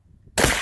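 A tannerite charge goes off with a sudden, loud, sharp bang that hits after a quiet moment and rolls into a broad roar of noise as the clip ends.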